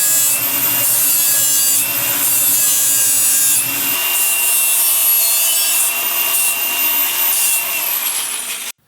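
Metal tube end being notched into a fish mouth for welding on a twin-turbo 1961 Cadillac project, a loud continuous grinding and sawing tone with a rhythmic stroke-like pulse, close and alone.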